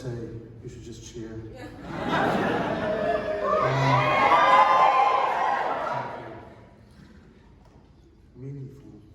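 A live audience at the Offies 2020 theatre awards ceremony swells into loud cheering and laughter for several seconds, then fades, with a speaker's voice heard before and after.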